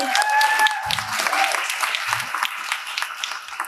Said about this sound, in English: So everyone, round of applause, please.